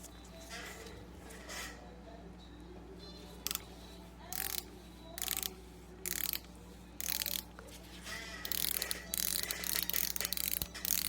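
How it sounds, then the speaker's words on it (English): A screwdriver backs out the needle bar screws on a Singer VS2 sewing machine: quiet bursts of metallic clicking and ratcheting come in short, repeated spurts and grow busier toward the end. "now the needle bar. We got 2 screws here. I need to get both of them out."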